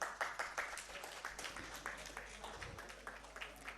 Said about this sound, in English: Once again, a very big round of applause for all our sponsors